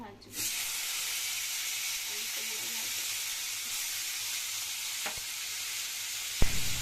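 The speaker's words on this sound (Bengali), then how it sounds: "আলু করলাটা এদিকে ভাজা হোক" Potato and bitter gourd fry in hot oil in a wok, a steady loud sizzle running throughout with a couple of sharp clinks near the end.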